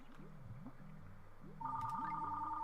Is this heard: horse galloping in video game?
no